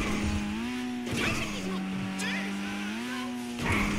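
A Grotti Brioso 300 Widebody in a video game sends out a steady engine drone that climbs slightly in pitch as the car gathers speed, staying close and continuous behind someone talking.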